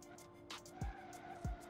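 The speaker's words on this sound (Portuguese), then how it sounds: "O carro tá patinando um monte." Car tyres skid and slip in the driving game BeamNG.drive, with short squeals and slides over a steady engine drone, moderately loud.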